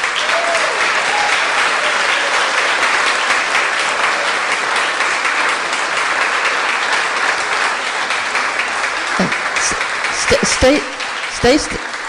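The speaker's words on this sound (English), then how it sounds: "And let's just applaud these dads." A church congregation applauds the fathers standing during a Father's Day service, a steady sustained wash of clapping from many hands that fades near the end, with a few sharper isolated claps and bits of voice breaking through.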